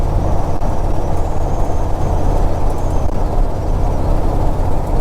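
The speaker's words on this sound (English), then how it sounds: "It's got a little bit of burble when it's coming down, you're downshifting." Engine rumble of a restored U.S. Forest Service Ford F250 Highboy pickup while driving, a loud continuous low drone from the exhaust that holds steady throughout, with no voices.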